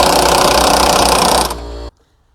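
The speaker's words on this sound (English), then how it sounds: "First thing, I'm going to remove the bottom bolt." Power tool, likely an impact wrench, loosening the bottom bolt of a rear strut mount on a 2010 Kia Rio, already treated with penetrating fluid; a loud steady whirring burst for about a second and a half, then a brief softer spin-down before stopping.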